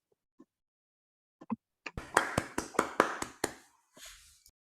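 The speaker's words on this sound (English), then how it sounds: "So round of applause from Team Zeta." Hackathon showcase audience gives a brief round of applause: a few scattered claps first, then a short burst of moderately loud clapping that fades within about two seconds.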